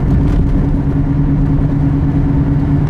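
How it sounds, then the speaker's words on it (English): A car in fifth gear pulling up to 30 miles an hour, a loud, steady low engine drone with a humming tone, close and continuous without talk. "I can accelerate, pull it up to 30 miles an hour."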